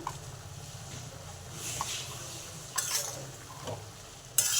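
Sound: ground cumin-coriander spice mixture frying in a pan

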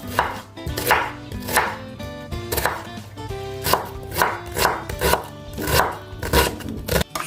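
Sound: chopping onion with knife

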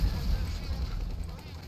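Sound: explosions and gunfire in the video game GTA 5

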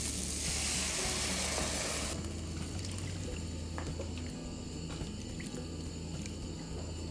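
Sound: rice water poured onto stir-fried vegetables in pan

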